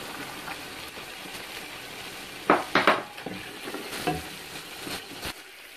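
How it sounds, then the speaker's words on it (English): Chopped carrots tipped into a pan of browned minced beef: a steady soft sizzle, then a cluster of sharp scrapes and clatters as they go in and are stirred, with the frying continuing beneath. "My minced beef is all browned up. Now I'm going to add my carrots,"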